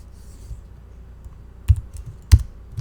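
HTML code is typed on a computer keyboard at close range, with soft scattered key taps and two sharper, louder key strikes in a short quiet burst.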